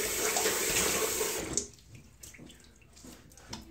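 Running tap water splashes as a face is rinsed after shaving a beard, a steady close hiss that stops abruptly, leaving faint drips and handling sounds.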